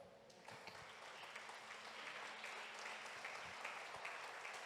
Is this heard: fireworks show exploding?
no